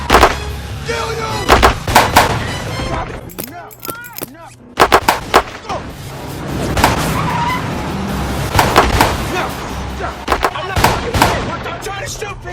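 Gunfire in an action scene from the film 21 Jump Street involving a limo: bursts of sharp, loud shots crack out repeatedly over engine noise and tire skids, with shouting voices mixed in.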